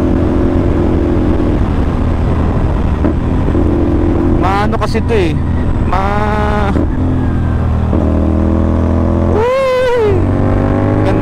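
A CFMOTO NK450 motorcycle fitted with an Orion exhaust is ridden on a curvy road; its engine hums steadily with several sharp rising-and-falling revs while the rider talks over it.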